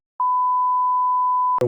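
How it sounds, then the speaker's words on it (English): A single steady censor bleep covers a spoken phone number on a podcast, a loud pure tone lasting about one and a half seconds, cut off abruptly as talking resumes. "we can bleep out your phone number"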